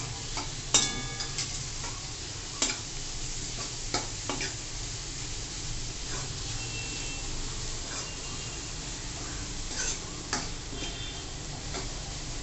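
Finely chopped onion sautés in a pan for dal palak, giving a steady close sizzle broken by occasional sharp stirring clicks and scrapes throughout.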